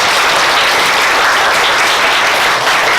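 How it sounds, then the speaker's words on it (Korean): Audience at a battle debate final applauding the competing student teams, loud continuous clapping filling the room at a steady level from start to finish. "박수 부탁드립니다."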